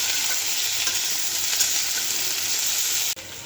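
Vegetables sizzle steadily in hot oil tempered with cumin seeds, a loud, even frying hiss that fills the space, then abruptly drops to a quieter sizzle near the end.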